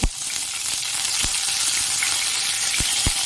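Curry leaves, lentils, mustard seeds and cumin sizzle in hot oil for a pumpkin curry, a loud, steady frying hiss broken by a few sharp pops and crackles.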